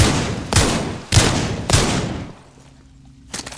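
Wingman pistol firing in the video game Titanfall 2: three loud, sharp gunshots spaced about half a second apart, each with a ringing tail, then a brief quiet and a fourth shot near the end.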